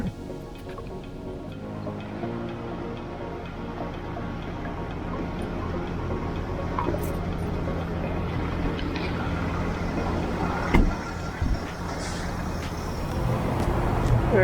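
Steady road noise from a car cruising along a highway in Texas, a constant engine and tire drone with occasional brief knocks, heard from inside the vehicle.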